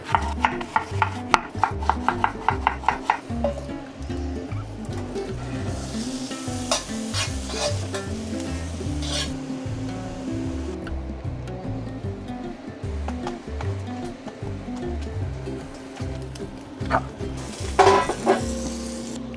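Onion sautéing in a pan for a sourdough grilled cheese, cooked in an RV kitchen: steady close sizzling and frying with repeated stirring scrapes and utensil clinks throughout, no talking.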